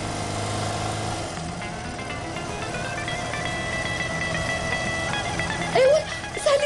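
A car engine idles and hums steadily during a driving lesson, with a low drone throughout and a few brief louder knocks and bumps near the end.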